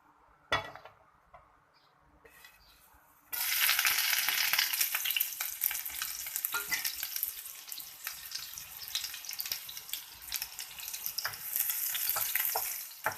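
Chopped garlic drops into hot oil and bursts into a loud, steady sizzle and crackle that continues close up after a few quieter clinks at the start.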